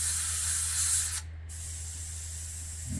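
A steady airbrush spraying lacquer paint on a WW2 German Sd.Kfz.251 model hisses close by, spraying continuously with one brief cut-out in the high hiss partway through.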